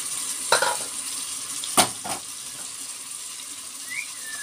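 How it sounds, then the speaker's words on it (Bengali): Spice masala sautés in a pan with a soft, continuous sizzle, broken by two or three brief scraping stirs of a spoon against the metal, close and moderately quiet, with no one talking. "এখন আমি এটাকে অল্প কষাবো"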